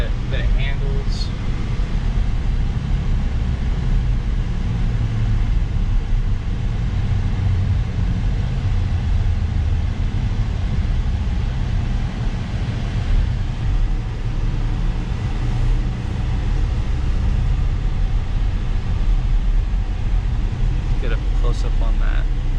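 A BMW i4 M50 electric car accelerating on a highway, heard from inside the cabin as a steady, loud low road and wind rumble that builds without engine note, with people talking in the car.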